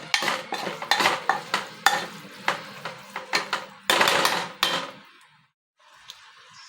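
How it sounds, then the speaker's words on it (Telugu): Mysore red lentil dal being stirred in a pot with a metal spoon: a run of scraping, clinking strokes in an uneven rhythm, close and fairly loud, then a short pause and a faint final knock. "మళ్ళీ ఒకసారిగా కలపాలి అడుగంటుకోకుండా"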